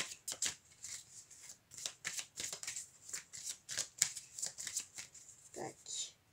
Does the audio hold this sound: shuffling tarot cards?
yes